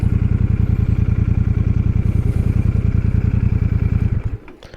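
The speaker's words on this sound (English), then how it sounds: "That was my brief test ride of the Super Meteor 650." A Royal Enfield Super Meteor 650 motorcycle on a ride, its engine pulsing steadily and loudly close up for about four seconds before easing off and dropping away near the end.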